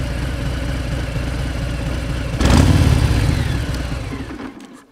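A Harley-Davidson motorcycle engine idles with a steady low, loping throb, then a short blip of throttle swells louder before the sound fades away near the end.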